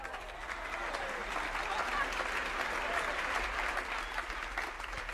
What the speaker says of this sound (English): Let's give a big round of applause to Bobby Barrett Jr.